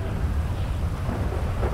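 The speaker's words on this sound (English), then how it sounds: "It's raining." Steady rain falls outside a car, a continuous low wash of drops and rumble with no clear breaks.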